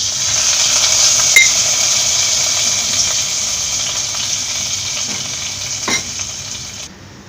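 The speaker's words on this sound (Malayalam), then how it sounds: "1 തണ്ട് കറിവേപ്പിലയുടെ ചേർത്ത് കൊടുക്കാം. ഈ താളിച്ചത് ഇതിലേക്ക് ചേർത്ത് കൊടുക്കാം." Hot tempering with a sprig of curry leaves and cut chillies poured into pineapple pachadi sets off a loud, close, continuous sizzle with a couple of faint clinks, fading away at the end.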